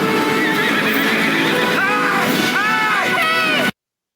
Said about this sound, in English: Gets back on his horse.